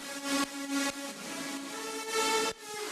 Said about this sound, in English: here's the reverb just by itself without the lead